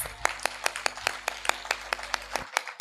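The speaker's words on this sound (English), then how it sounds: "A round of applause for our" An audience at a Jamaica closeout ceremony applauds farmers honoured as VVIPs with brisk, evenly spaced claps that ring out clearly for a couple of seconds before cutting off abruptly.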